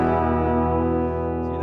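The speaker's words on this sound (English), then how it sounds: "that's where you add the little tape delay along with the spring" A sustained electric guitar chord rings through a Line 6 POD Express with spring reverb and a touch of tape delay, holding dense and steady at close, loud level for the whole brief span, with no voices.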